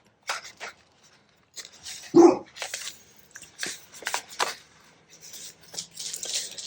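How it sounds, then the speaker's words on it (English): A guide dog in training gives a single short bark at the centre of a quiet indoor scene, set among soft rustling and handling noises close by. "our guide dog in training, who is fostering with us for a while"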